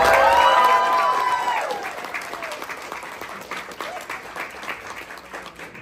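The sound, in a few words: comedy club audience cheering and clapping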